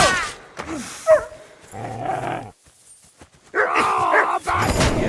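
A dog in the medieval video game Kingdom Come: Deliverance 2 gives a few loud, close growling barks between raised shouting voices during a fight, with a brief quiet gap mid-way.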